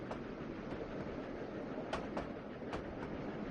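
A train without a caboose rolls past in the Trainz 2019 simulator, a soft steady rumble of wheels with a few brief metallic clicks, fairly quiet and with no talking.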